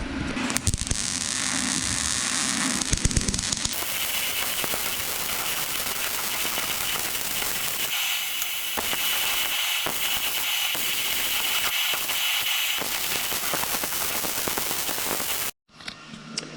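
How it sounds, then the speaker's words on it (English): Welding all the way around a stock Ford Mustang muffler flap held flat: a steady, loud crackling sizzle of the arc runs almost unbroken, with brief pauses and a cut near the end. "I'm going to weld all the way around."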